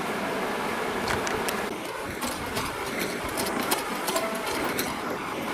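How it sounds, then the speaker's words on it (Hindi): Electric sewing machine stitching fabric for a small sofa-bed, running in a steady continuous whir with rapid needle ticks, close and fairly even throughout, with no talk. "इसलिए हम सिलाई मशीन का यूज़ कर रहे हैं"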